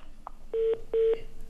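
Two steady telephone tones, each lasting about a quarter second, sound as a call drops during a late-night broadcast, following a brief softer blip, with a faint background hum and no talking.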